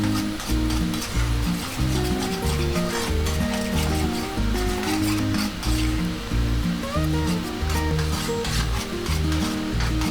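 Recheado masala with a pinch of stock cube sizzles steadily in a pan for a Goan pomfret fry, a continuous hiss partly masked by loud melodic background music.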